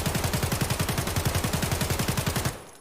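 Sustained full-auto rifle fire in Escape from Tarkov, a fast even burst of about twenty loud close shots with no recoil control, cutting off sharply at the end.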